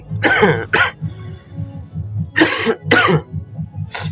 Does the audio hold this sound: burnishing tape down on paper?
no